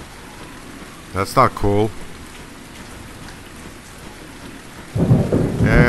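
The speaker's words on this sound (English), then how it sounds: "now I got rain" Rain and thunder in the video game Blue Jay Simulator form a continuous hissing downpour with low rumbling underneath, while someone speaks briefly twice over the storm.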